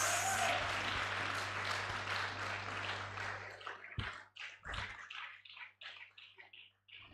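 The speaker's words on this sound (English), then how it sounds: "I think you will clap for yourselves." Dense audience applause at a medical laboratory science induction ceremony fills the hall, then thins into scattered, fading claps over the last few seconds.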